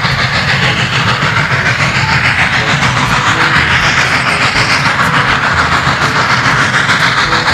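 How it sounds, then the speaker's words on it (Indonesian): A steam train rumbles steadily with a constant hiss and rhythmic clatter of wheels on track, loud and close throughout. "ini kereta uap teman"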